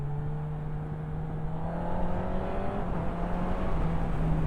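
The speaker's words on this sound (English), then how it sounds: "Nice big lorry coming round." Big lorry passing on the road, heard from a 2023 Honda CB1000R motorcycle, with a steady engine drone and rumbling road noise that swells slightly as it nears, close and loud, with no talking.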